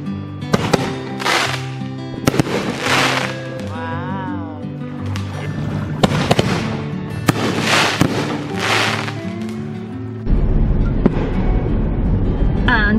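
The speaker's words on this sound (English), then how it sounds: "Was the neighbor shooting off fireworks and you didn't even care?" Repeated booming bursts from neighborhood fireworks at night, with crackling tails and some sparkly whistling, over a steady outdoor rumble; a few voices murmur in the background.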